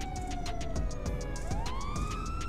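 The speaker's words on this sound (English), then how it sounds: "We got a siren check" A video game police car siren wails with rising and falling pitch, loud and continuous, layered over busy rumbling game noise and rapid clicking bursts.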